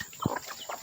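Free-range village chickens kept by a poultry farmer cluck in short, scattered bursts, fairly close and moderately loud, with a few brief calls and no talk over them.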